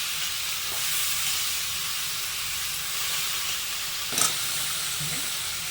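Carrot and potato pieces frying with ginger garlic paste in a pan for a vegetable semiya dish, giving a steady, fairly loud sizzling hiss with one brief clink of a utensil partway through.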